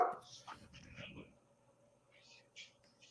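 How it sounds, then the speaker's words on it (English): A pet dog at home on a Sunday morning gives soft, brief whimpers and yips in the background, faint and intermittent, partly under a person talking. "my dog is reminding me that it is a Sunday morning"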